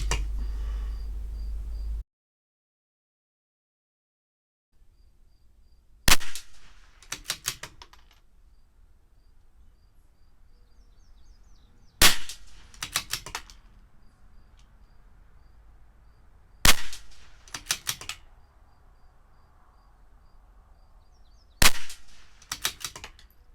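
A CZ 457 rimfire rifle firing Eley Match ammunition, four sharp, isolated shots spaced several seconds apart outdoors, each with a short echoing tail and near silence between.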